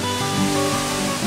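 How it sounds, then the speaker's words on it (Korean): A twin waterfall, Wonang Falls on Jeju, pours into a pool with a steady, dense rush of falling water that stays close and loud throughout. "한 쌍의 폭포가 이렇게 떨어진다라고 해서 원앙 폭포예요"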